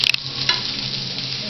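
Chopped onions frying in a pan give a loud, steady sizzle that runs throughout, with a few brief crackling bursts and no talking.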